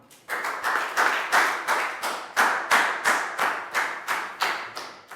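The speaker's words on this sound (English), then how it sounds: "High five and a big round of applause for Down." A group of children claps in a steady, even rhythm, about a dozen sharp claps in unison, close and fairly loud, with no voices.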